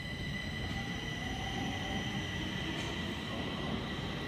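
Subway train at Hallonbergen metro station in Stockholm, a steady rumbling roar of wheels on rail with sustained high tonal whine and squeal, moderately distant and continuous with no voices.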